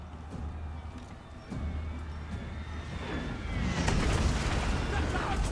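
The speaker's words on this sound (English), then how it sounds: "We're nicely counter-mortaring the mortars." Mortar artillery thuds and booms across a fantasy battlefield in Total War: Warhammer 2, a constant low rumble of distant impacts swelling louder toward the end.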